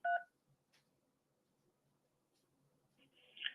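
A single short pair of touch-tone keypad beeps opens the stretch, followed by near silence with faint clicks and a soft tonal blip near the end, as if keys are pressed during an automated phone menu.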